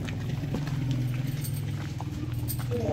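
Hooves of a tall, two-year-old horse known for tent pegging clop steadily and close by at a horse gathering in Pakistan, a continuous low rhythmic patter with no talk over it.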